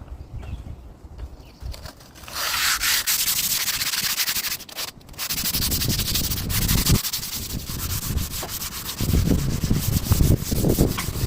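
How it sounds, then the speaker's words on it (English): Sandpaper rubbed by hand over an old tractor part during a restoration, a steady scratchy rasping in long continuous strokes close by, pausing briefly near the middle before resuming. "So I'm gonna sand it up with some sandpaper"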